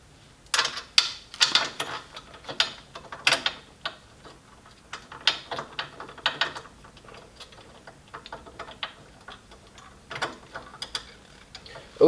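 A ratchet tightens the battery hold-down bolt on a Dodge Viper RT/10 or GTS, giving irregular clusters of sharp clicking pawl ticks, close and crisp, with quiet gaps between strokes.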